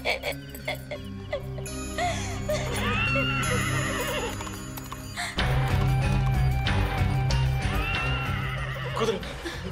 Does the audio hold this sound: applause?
no